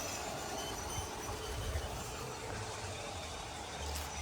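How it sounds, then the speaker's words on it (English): A train rolls past outdoors at a historic garden's model railway display, a steady rumbling and rushing that holds at an even level throughout, with no voices. "Over here, the train is coming."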